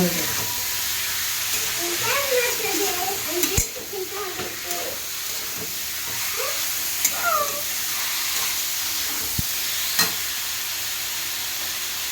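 Washed red lentils are stirred in a hot pan, giving a soft hiss and sizzle with scattered spoon scrapes and knocks against the metal, while a voice talks over it at intervals.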